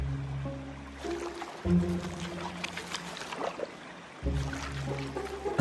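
A small mountain stream where a giant panda has come to wade and roll, its water rushing in a steady broadband wash that swells and dips, with sustained musical tones running underneath.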